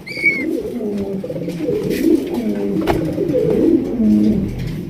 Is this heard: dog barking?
no